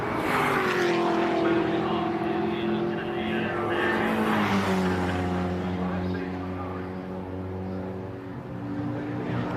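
A Mini Miglia race car passes on the circuit, its engine note swelling loud and then falling in pitch as it goes by, with a commentator talking over it.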